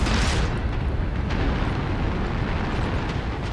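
A volley of missiles fires in MechWarrior Online, an MRM60 brawler build, giving a dense, loud rumbling blast that opens with a sharp burst and then rolls on with a steady roar.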